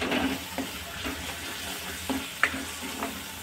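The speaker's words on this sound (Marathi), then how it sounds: "पुन्हा आपण याला 1 मिनिट एवढं परतून घेणार आहोत, म्हणजे सुके मसाले सुद्धा छान असे तेलामध्ये परतले जातील।" Dry spices are sautéed in oil in a pan for a tomato shev bhaji, with a soft sizzle under repeated scraping and stirring. One sharp clink comes partway through, and no one speaks.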